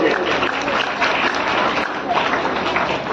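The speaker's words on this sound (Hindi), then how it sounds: "पहले अपने आप के लिए एक बार जोरदार तालियां हो जाए।" Enthusiastic crowd applause fills a community program in Sarai Akil, Kaushambi, a continuous, close, loud clatter of many hands with voices mixed in among the clapping.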